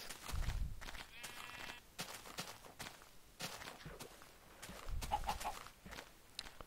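A sheep in the Minecraft video game bleats in short bursts over scattered blocky footstep thuds and clicks of game sounds, with a brief tonal chirp in between.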